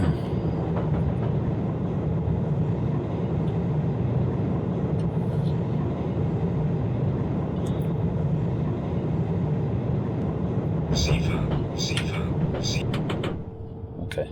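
A simulated ICE 2 high-speed train runs in Train Simulator 2018 on the Konstanz–Villingen route, giving a steady loud rumble and rolling drone throughout, with brief higher clicks and tones near the end before the level dips slightly.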